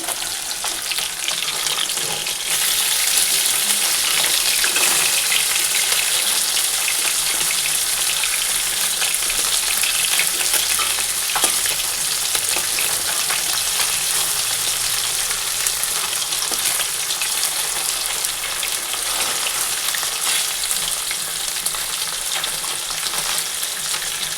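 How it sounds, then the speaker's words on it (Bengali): Steady, loud sizzling of fish and bitter gourd frying in hot oil, a continuous crackle with occasional sharper pops, no voices. "এখানে এই যে মাছ ভাজা বসিয়ে দিয়েছি আর এইখানে করলা ভাজা বসিয়ে দিয়েছি"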